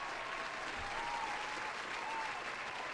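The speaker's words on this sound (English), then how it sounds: "for that, I'm going to give him a round of applause." A round of applause on a gaming podcast: continuous broadband clapping holds at a constant moderate level from start to finish, with no talk on top.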